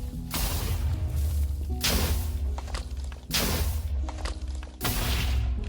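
Explosions inside a base in Minecraft hardcore mode: several loud, booming blasts with rushing noise, spaced a second or two apart over constant background game noise, no speech.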